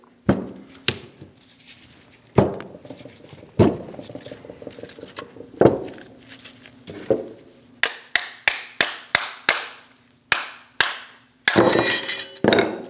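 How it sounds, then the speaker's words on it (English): Sharp metallic hammer taps knocking brake pads out of the rear caliper bracket on a 2001-2006 Chevrolet Silverado 2500 HD, a few spaced strikes then a quicker run of about a dozen ringing knocks, close up, ending in a brief clatter. "you can use a hammer to help tap them out"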